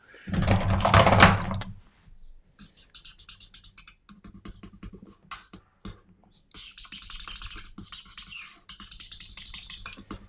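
Felt-tip markers squeak and scratch across paper while drawing, with a louder burst of strokes at first and then steady runs of short, close squeaky strokes.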